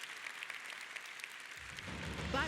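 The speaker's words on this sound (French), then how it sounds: "Je vous propose d'applaudir tous ces intervenants." Applause from an audience at the opening plenary ceremony of the IGF 2025 conference, a steady broadband patter of clapping that swells louder toward the end, with no talk over it.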